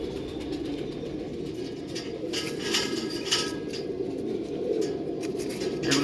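Young homing pigeons coo softly in a loft, a low, steady murmur close by with faint background noise and no speech.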